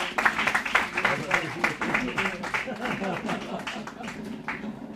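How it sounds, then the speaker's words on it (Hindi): An audience at a Delhi University Hindi literary society event claps in a quick patter of applause, blending with a speaker's voice talking over it. "और ताली बजाओ"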